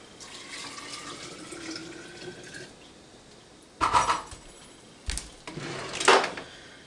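Hot water splashes into a half-gallon mason jar holding sugar for kombucha. It comes in three short, close bursts of gushing liquid after a quiet, hissy stretch.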